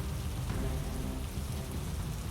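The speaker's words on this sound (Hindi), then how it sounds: "आसमान में बादल घिरने लगे थे और हल्की बारिश भी शुरू हो गई।" Rain falls steadily with a dense, even patter and a low rumbling wash beneath it, close and continuous, with no voices.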